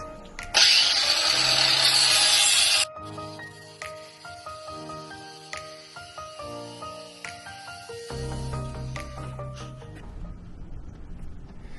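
Power sanding with 120 grit sandpaper strips the top layer of paint from a boat outdrive, a loud abrasive whir at first that cuts off after a few seconds, followed by quieter tonal machine sounds.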